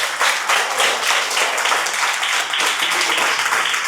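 A church congregation at a Pentecost vigil breaks into sustained applause, dense overlapping clapping that fills the room with no one speaking over it.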